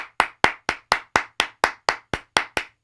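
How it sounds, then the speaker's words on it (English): Single pair of hands clapping in a steady, even rhythm, about a dozen sharp, close claps in quick succession with no crowd behind them. "So, round of applause for everybody."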